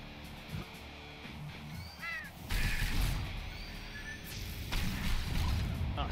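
A crow caws in the Slain: Back from Hell video game, a couple of harsh calls over loud game noise with swooshes and crashes, heard without talk.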